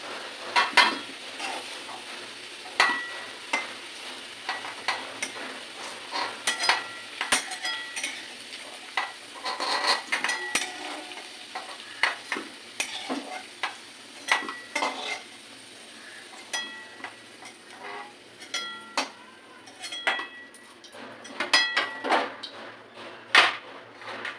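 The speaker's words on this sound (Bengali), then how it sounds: "ভেজে নেব আমি আলুগুলো আমার ভাজা হয়ে গেছে" Potatoes fry in a pan with a soft sizzle beneath frequent close clanks and scrapes of a metal utensil and dishes, irregular and busy throughout.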